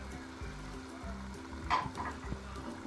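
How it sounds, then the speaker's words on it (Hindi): Chicken karahi masala fries on high heat in a wok, a steady close sizzle with low rhythmic stirring scrapes and one brief brighter clink partway through. "इसको हम मिक्स करते हैं और 2-3 मिनट हम तेज़ आंच पे इसको भून लेते हैं"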